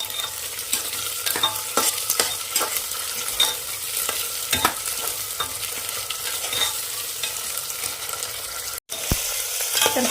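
Onion and pavta beans fry in a pan for pavta rice, a continuous close sizzle broken by frequent sharp crackles and pops, with a brief dropout near the end.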